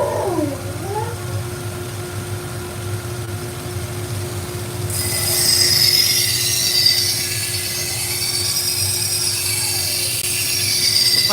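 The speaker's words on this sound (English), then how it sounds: "That's my dust collection system on." A workshop dust collection system runs with a constant mechanical hum and steady tonal whine, joined midway by a brighter high-pitched whir from sharpening work, with faint dog noises near the start.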